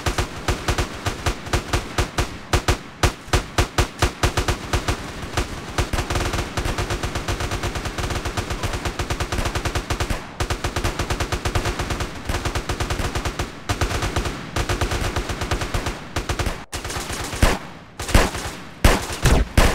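Sustained loud automatic gunfire in a GTA San Andreas roleplay shootout, dense rapid bursts close by that run almost without a break and grow more ragged toward the end.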